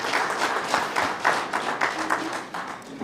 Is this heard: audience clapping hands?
yes